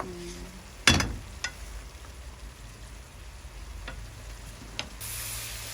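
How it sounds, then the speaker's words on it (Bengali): Prawns and onions sautéing with turmeric and chili in a pan give a soft, steady sizzle, broken by a sharp scrape or clank of the stirring spoon near the start and a few lighter clicks later. "আমাদের চিংড়ি মাছ পেঁয়াজ কষা নিয়ে গেছে হলুদ মরিচ সহকারে"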